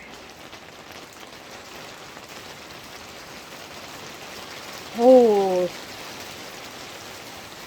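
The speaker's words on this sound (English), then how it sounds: "this is a nice hard rain." Hard rain falling outside a greenhouse, a steady broadband patter throughout, with a person briefly exclaiming partway through.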